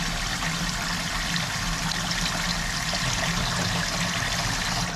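A toilet flushing with water rushing steadily through a partly blocked bowl, loud and continuous throughout with no voices.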